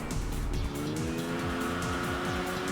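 Opponent race car in the Enthusia racing game, engine revving through repeated gear shifts with tire squeal, loud and continuous as it passes close by.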